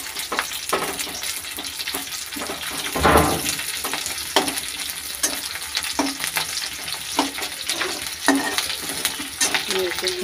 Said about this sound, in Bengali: এই যে কারি পাতা আর পেঁয়াজটা ভেজে নিচ্ছি